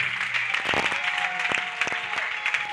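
Crusade crowd clapping and cheering steadily, a dense wash of applause with a few louder sharp claps breaking through.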